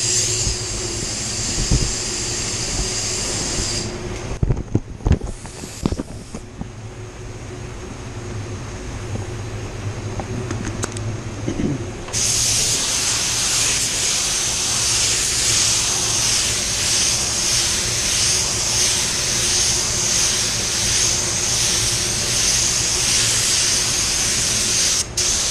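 A spray gun applies silver paint to a car hood, laying down a steady loud hiss in long passes, broken by short pauses and clicks before a sustained, continuous spray fills the rest.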